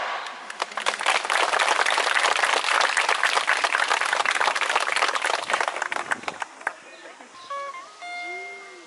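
Parents in the audience at a kindergarten farewell event clap loudly and densely after the children's performance for several seconds, then the applause thins out and fades as voices begin to speak.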